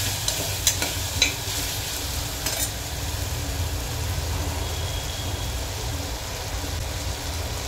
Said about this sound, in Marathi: व्यवस्थित परतून घ्यायचं आहे सुरण फोडणीमध्ये.